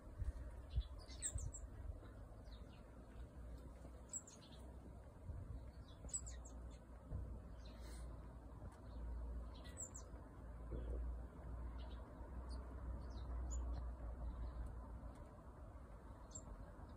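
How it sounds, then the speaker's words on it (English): A blackbird chick being fed by its mother gives faint, high, thin calls in short scattered bursts over a quiet outdoor background. "Pidgey's come to be fed by Mrs. Blackbird now."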